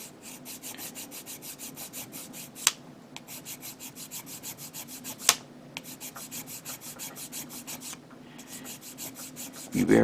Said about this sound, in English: now I'm going to begin sanding it down using 400 grit sanding stick